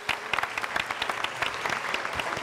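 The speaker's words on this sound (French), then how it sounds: "On applaudit pour ça, s'il vous plaît." Studio audience applause on a live French-language television show: a dense run of many quick, crisp hand claps, steady and fairly close, with no speech over it.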